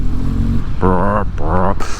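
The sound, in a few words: BMW R12 boxer twin motorcycle engine pulling at 2000 RPM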